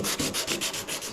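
Close, rhythmic sanding strokes on a surfboard's resin hot coat, a steady back-and-forth gritty rasp repeating about eight times in quick succession.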